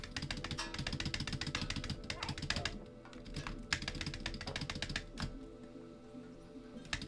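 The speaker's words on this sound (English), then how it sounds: "You gotta hear a lot of like fucking keyboard spamming" Rapid keyboard spamming on a computer keyboard while playing a Stray speedrun, dense bursts of clicking keys that thin out into scattered taps, with low game sound underneath.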